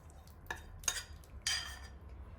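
Minced meat and leek mixture is scraped into a cooking pot in three short clattering bursts of utensil against metal, close and fairly quiet with no talking.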